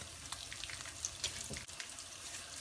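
Potatoes and okra with spices fry over high heat in a pan, a steady close crackling sizzle broken by a few sharper pops and the light scrape of stirring.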